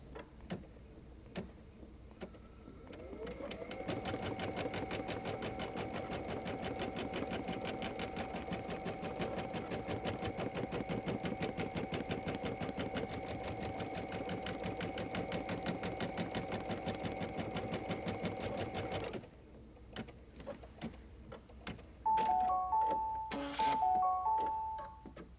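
An embroidery sewing machine stitches a placement stitch for a Sunbonnet Sue design, a steady fast needle rhythm running loud and even for about fifteen seconds before stopping, followed by a few light clicks and a short electronic chime.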